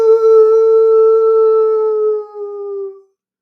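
A human voice imitates a wolf howl: one long, clear, sustained call that holds steady for about three seconds, then dips and trails off into silence.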